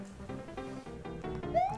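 A house cat meows repeatedly in short, faint calls at close range, with no speech over it.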